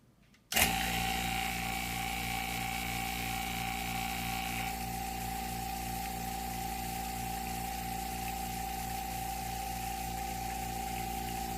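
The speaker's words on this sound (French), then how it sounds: "Là, présentement, j'enlève l'air avec la pompe à vide." A vacuum pump starts abruptly and runs steadily, evacuating air from a vacuum chamber with its lid in place; a close, continuous motor drone with a fine rhythmic pulsing whose higher hiss eases off after a few seconds, no talking.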